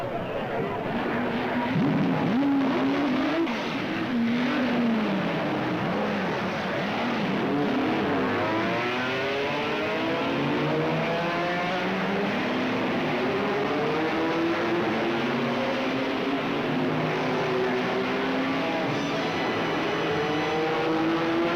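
Race cars roar away at the start of the 1966 Le Mans 24 Hours, a dense, continuous wash of engines rising and sweeping in pitch as the field accelerates, with a faint voice underneath.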